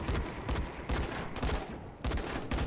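Gunfire in the zombie game Dying Light, heard as several loud bursts of shots at irregular intervals that fill the whole clip, with no talk over them.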